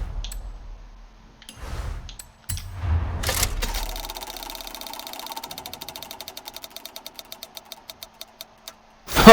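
A Forza Horizon 5 prize wheel spins in the menu: a whoosh and thump, then a fast run of ticks that gradually slows and spaces out before a bright reward sting at the end.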